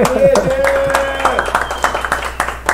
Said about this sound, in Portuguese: Cadê a salva de palmas pro Luciano